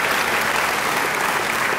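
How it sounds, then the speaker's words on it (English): A steady, dense round of applause from a large audience for graduates of a master's program at a 2011 Heinz College diploma ceremony, even and continuous from start to finish. "Please join me in a round of applause for the graduates of the Master of Science in Medical Management Program"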